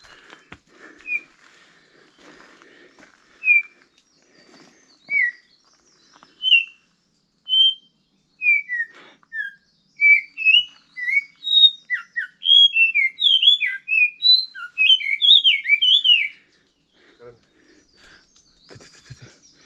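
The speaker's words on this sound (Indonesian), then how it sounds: "Burungnya ngerti aja kalau di videoin." Wild birds on forested Mount Gede Pangrango give clear, short whistled calls, sparse at first, then a quick flurry of overlapping chirps midway, fairly close against a quiet mountain background.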